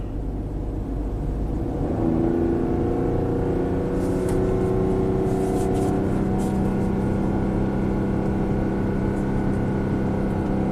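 A Ford Explorer V6, running after an engine swap with a low-power, suspected-misfire fault, revs under added load. A steady, close engine drone climbs in pitch and holds, with a faint light rattle over the top and no talking.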